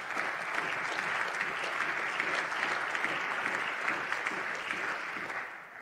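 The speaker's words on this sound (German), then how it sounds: "Applaus" Sustained applause fills a parliament chamber after a budget speech, dense steady clapping from many hands holding an even level throughout before tapering slightly at the end, with no voices over it.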